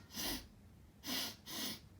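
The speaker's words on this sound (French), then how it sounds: "Renifla le lapin gourmand qui ne tarda pas à sauter dans le sac." Three breathy sniffing bursts, close and fairly loud, standing in for a greedy rabbit sniffing in a fairy-tale, with quiet gaps between them and no talk.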